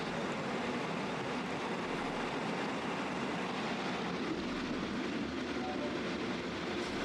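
A local train on the Howrah–Barddhaman chord line in West Bengal rumbles steadily from inside the carriage, a loud continuous roar of wheels and motion with faint rail rattle and no clear talking.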